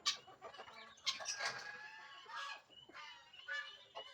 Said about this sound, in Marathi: अजून ब्लॅक आस्ट्रो पाहिले काय हे पहा कोंबड्या.